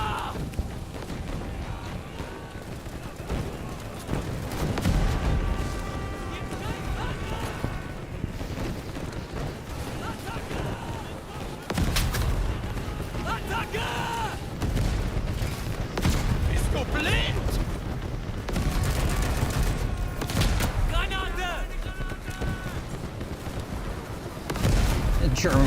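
Lewis gun and other WWI weapons firing in the first-person shooter Over The Top: WWI, dense bursts of automatic fire and booming explosions layered continuously through a chaotic battle soundscape, with occasional voices.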